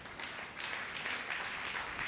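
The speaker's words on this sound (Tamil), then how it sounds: "கைத்தட்டுங்க பார்க்க." A church congregation at a Sunday service claps together, giving a dense, steady patter of many hands at moderate distance with no break.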